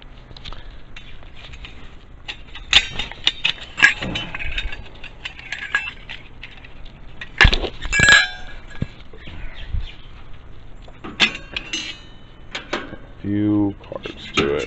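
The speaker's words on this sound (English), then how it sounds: "So the camping stove packs up in this little mesh bag." Small metal parts of a compact camping stove clink and rattle as it comes out of a mesh bag, with scattered close ratcheting clicks and chinks amid a voice talking.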